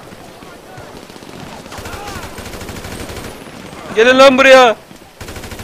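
Gunfire in GTA 5 riot mode, a sharp burst of rapid automatic shots a few seconds in, with someone talking excitedly in Turkish over the game sounds before and after.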